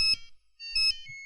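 Phone ringing with a tonal electronic ringtone, two bursts of the ring pattern separated by a brief pause, the second trailing off into a sustained tone.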